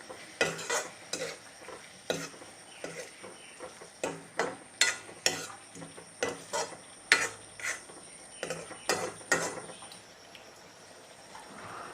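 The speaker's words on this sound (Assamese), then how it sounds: "এতিয়া ভালদৰে লৰাই ল'ম।" Egg masala curry with turmeric being stirred in a pan, a spoon scraping and knocking against the metal in a steady, repeated rhythm of close, distinct strokes with no talking.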